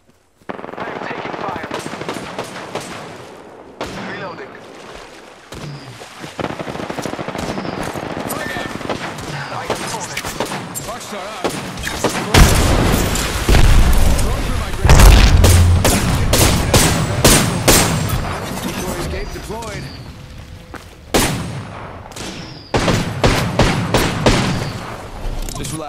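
Rapid automatic gunfire and scattered shots in Apex Legends, loud bursts that grow denser and heavier midway, with occasional thuds and short in-game voice lines between volleys.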